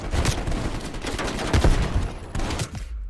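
Bursts of automatic gunfire from the video game Call of Duty: Black Ops Cold War, loud and dense rattling volleys with heavy thumps, briefly broken and resuming, without speech.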